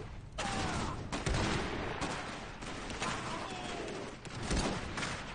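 Pistol fire from engineer units in the Iron Harvest strategy game, scattered sharp shots and bursts within a busy battle din, moderately loud and continuous.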